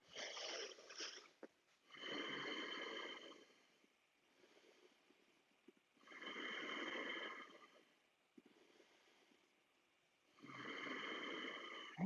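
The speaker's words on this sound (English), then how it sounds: "Long, deep Ujjayi breathing here." Long, deep Ujjayi breaths during a yoga class come as slow, rasping, ocean-like inhales and exhales, about three full cycles of several seconds each, close and fairly faint, with no talking.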